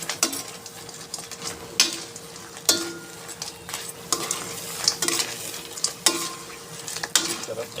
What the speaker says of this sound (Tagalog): Halu-haluin natin para madaling maluto.